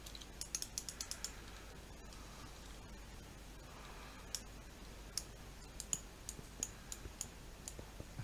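Sharp, dry mouse clicks while playing Minecraft Feed The Beast, a cluster of rapid clicks early on and then scattered single clicks at irregular intervals, close and fairly quiet over a low steady hum.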